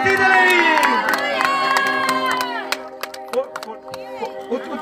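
A church congregation breaks into loud cheering and applause for Jesus Christ at a healing service, the crowd noise swelling at first and then settling into scattered claps and shouts.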